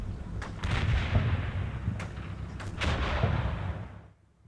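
Mortar fire in the Combat Mission Cold War video game, heard as several loud, booming impacts and rumbling blasts in quick succession before fading out.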